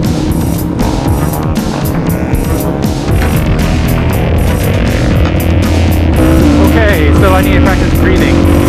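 Supermoto motorcycles racing around the Socal Supermoto track at a track day, their engines a loud, continuous roar with rising and falling revs throughout, mixed with a voice talking.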